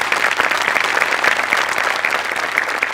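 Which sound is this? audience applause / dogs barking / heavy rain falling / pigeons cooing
audience applause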